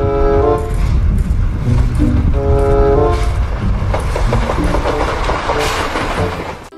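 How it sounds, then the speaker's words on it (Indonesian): A toy Thomas train runs, loud and close, with repeated tooting horn-like tones over a rumbling clatter that fades slightly at the end. "Ada kereta Thomas teman-teman."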